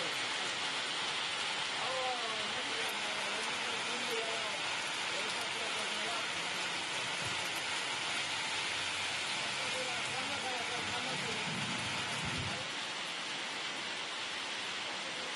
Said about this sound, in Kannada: ಇನ್ನು ಕೊಪ್ಪಳದಲ್ಲೂ ಕೂಡ ಜರ್ರಾಬಿರಿ ಮಳೆ ಹೊಡಿತಾ ಇದೆ.